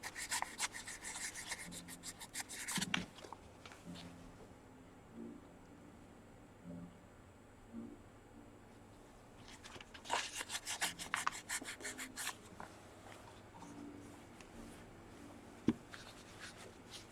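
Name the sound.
sanding a carved stone seal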